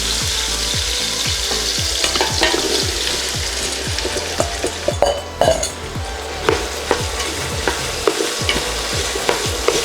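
Minced garlic and three large cut-up onions sauté in a pan for Puerto Rican pastele stew, with a steady close sizzle and a rhythmic series of spoon-stirring scrapes and clacks throughout, no voices.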